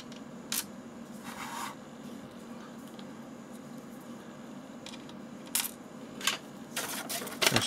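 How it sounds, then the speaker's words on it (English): Small metal screws are dropped and fitted into a Retroflag Mega Pi case, giving scattered sharp tiny clicks and ticks, close but light, with a cluster near the end and no voice. "just literally screw it together, so we'll pop the screws in"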